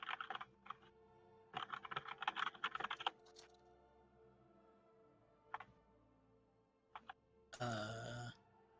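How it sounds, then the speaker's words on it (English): Computer keyboard keys clatter in quick bursts, a busy flurry of typing followed by a pause with a few isolated taps and a final louder rattle, close and fairly quiet in a still room. "He is typing to me."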